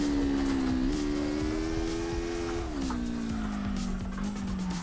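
A car drifts in CarX Drift Racing Online, driven in fourth gear with a steering wheel, its engine holding a steady loud drone that dips and rises while the tires squeal continuously through the slide.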